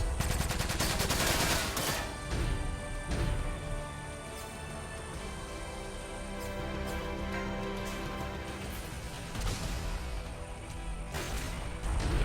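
A mech fires its rifle in the video game Front Mission 5: Scars of the War, with bursts of heavy automatic gunfire at the start and again near the end over a droning music bed.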